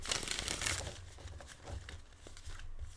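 A new deck of cards is shuffled close up, giving continuous crisp riffling and crinkling with soft fluttering bursts, fairly quiet and alone.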